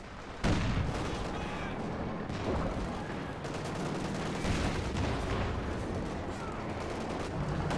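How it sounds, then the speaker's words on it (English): Walking Stuka rocket artillery fires in a Company of Heroes 2 match, a sudden loud launch blast followed by a dense, continuous rumble of rockets and explosions with no talk. "That is so juicy for that walking Stuka, which I should be ready to fire, yeah, just about now."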